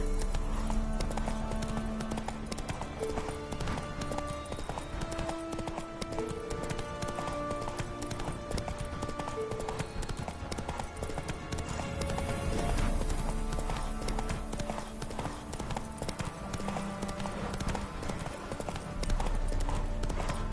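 Roach, a horse in the game The Witcher 3, galloping with rapid, rhythmic hoofbeats that run unbroken through a full layer of game music and background sound.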